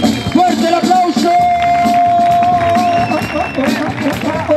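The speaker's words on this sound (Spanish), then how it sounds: "¡Fuerte el aplauso!" Audience at a slap battle final claps and cheers, dense crowd noise with voices over music, loud and continuous.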